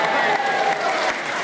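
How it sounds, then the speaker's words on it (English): A studio audience at a panel game show claps, brief dense applause at steady volume. "Well, you've got a round of applause for it anyway."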